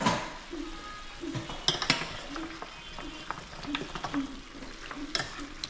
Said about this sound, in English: Look like it can take a little bit more of the browning.